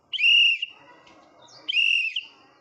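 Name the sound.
toddler blowing a toy whistle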